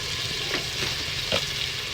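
Masala fries in a pan with a loud, steady sizzle and a few stirring scrapes, close up and with no voices.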